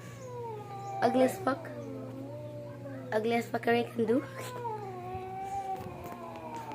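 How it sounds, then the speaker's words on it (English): Several cats meow and caterwaul in drawn-out, wavering cries, a few loud ones in two clusters, while someone talks over them. "They're meowing for 6 billion hours."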